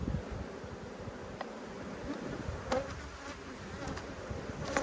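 Honey bees hum steadily in an open hive headed by a mated queen from Australian exporters, a close, continuous buzz with occasional sharper passes of single bees and no talk.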